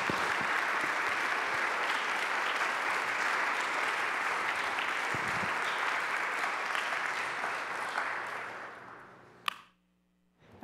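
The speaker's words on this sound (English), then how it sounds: "So if we could give Kathy a big round of applause." Sustained applause from a seated audience at a government ceremony honouring a justice council member, steady and full for about nine seconds before fading out quickly into near silence.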